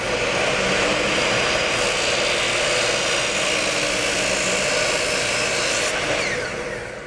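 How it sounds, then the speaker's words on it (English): Loud, steady whine of a miter saw running continuously through mitered cuts in wood for a dining room table base, near and alone, tapering off at the end. "Now I'm going to go to my miter saw and make these mitered cuts."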